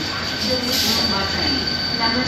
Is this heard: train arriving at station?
yes